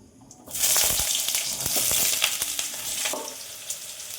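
Chopped bottle gourd drops into hot oil tempered with whole cumin seeds, bursting into a loud sizzle that settles into steady frying crackle with a few stirring clinks, close up and without talk.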